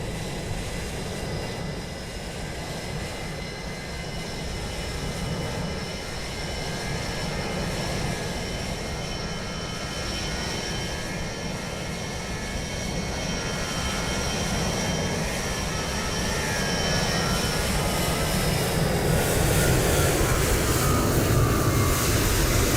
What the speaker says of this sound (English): Transavia 737.